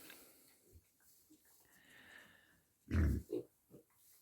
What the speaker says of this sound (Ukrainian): Поросята одним словом.